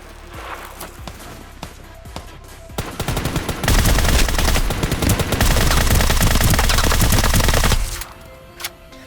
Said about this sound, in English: You can also shoot while gliding if you have an SMG in your hands.